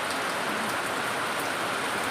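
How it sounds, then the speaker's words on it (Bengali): Afternoon rain falling steadily, a close, even hiss of drops on surfaces with no breaks and no voices. "আবার বৃষ্টি নামলো"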